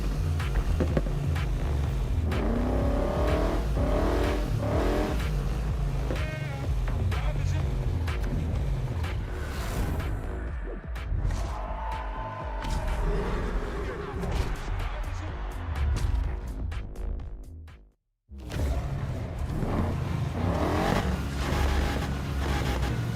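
A 1965 Ford Mustang engine in the racing game Need for Speed Heat drones loudly and steadily with rising revs. A person talks over it, and the sound cuts out briefly near the end before returning.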